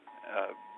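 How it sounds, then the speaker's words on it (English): A mobile phone alert for flood warnings during very heavy rain from Hurricane Lane, heard as a brief, faint electronic tone lasting under a second. "that's my phone going off right now, more flood warnings"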